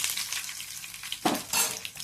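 Five small crushed onions drop into hot oil, a steady sizzle with a brighter burst of frying and stirring partway through, close and with no talk.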